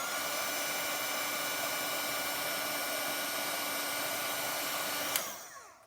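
A heat tool blows a steady, loud whirring hiss while melting embossing powder on a Christmas card, running continuously for several seconds before clicking off and winding down.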